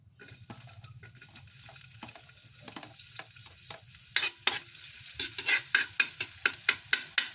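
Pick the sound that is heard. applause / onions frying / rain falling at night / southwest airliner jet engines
onions frying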